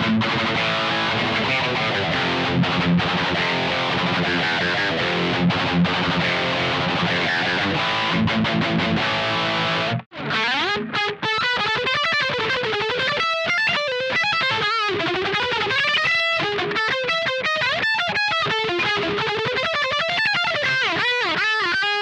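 A distorted electric guitar plays through an amp feeding the Two Notes Torpedo Captor's onboard cab sim. Heavy chugging chords give way to a run of articulated high-gain single-note riffs, loud and up front with no speech.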